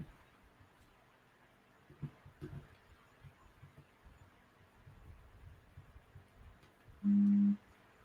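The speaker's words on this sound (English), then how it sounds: "That was my phone." A phone gives a short, loud electronic tone near the end, a steady beep lasting about half a second over a quiet room.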